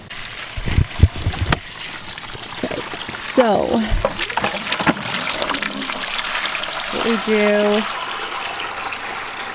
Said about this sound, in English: The gray water system is going. It is in full effect.